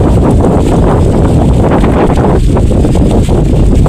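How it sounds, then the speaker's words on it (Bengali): Strong wind buffets the microphone in a loud, continuous roar, gusting without pause for the whole stretch. "এই যে দেখেন প্রচুর বাতাস, আর বাতাসের মধ্যে বসে আছি"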